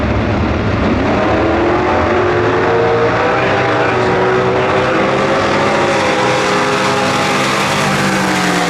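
Two COPO Camaros with big block 427 engines launch in a stock-class drag race at the NHRA Winternationals, a loud sustained roar with rising engine tones as they accelerate away.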